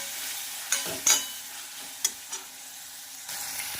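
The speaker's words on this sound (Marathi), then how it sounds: "आणि हळदी पावडर हे छानपैकी आपल्याला फ्राय करून घ्यायचं आहे" Turmeric powder fries in a pan with a soft steady sizzle while a spoon stirs, giving a few brief scraping clicks; close and fairly quiet with no talk.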